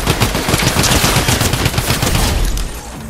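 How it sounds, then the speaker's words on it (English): Rapid gunfire in the Fortnite video game, dense overlapping shots and bursts firing continuously at loud level before easing slightly near the end, with no talk. "There's still those shots from behind there."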